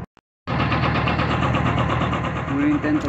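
A truck fitted with air brakes and under repair cranks and catches abruptly after a brief silence, then settles into a loud, steady, close-up diesel-like running rumble with a continuous droning hum.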